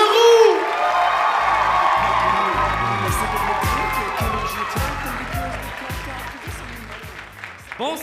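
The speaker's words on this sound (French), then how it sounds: "On commence déjà à l'applaudir. Plus fort que ça pour l'excellent Maxime Leroux." An audience at the LOL-MDR Desjardins comedy contest applauds and cheers comedian Maxime Leroux, a dense, steady wave of clapping with whoops that slowly thins toward the end while a host speaks over it.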